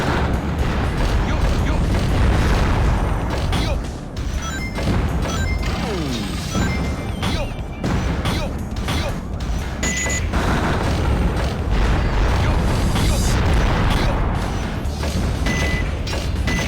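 Egyptian pillars blow apart in a Chao video game, a dense run of loud crashes, booms and debris smashes with beeping tones layered through the chaos.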